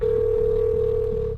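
A telephone gives one continuous electronic tone, loud and steady for about a second and a half before cutting off, with no voices.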